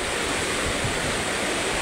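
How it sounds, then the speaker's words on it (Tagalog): A rushing creek streams with a dense, continuous roar of water, loud and close, with no voices. "dito kami mga idol sa rumaragasang tubig sa sapa"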